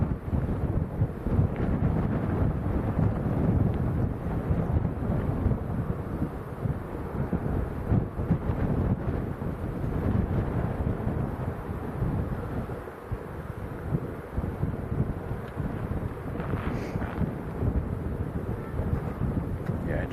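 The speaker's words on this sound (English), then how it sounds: "It's just a little bit on the breezy side" Strong crosswind gusting across Lanzarote Airport, a steady broadband roar with buffeting on the microphone that never lets up, loud and continuous throughout.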